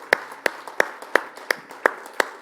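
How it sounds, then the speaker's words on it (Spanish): Sharp, evenly spaced claps ring out one at a time in a steady beat, close and crisp, from a church congregation at a Spanish-language service, with faint background murmur underneath. "¿Cuántos pueden dar un aplauso a aquel que"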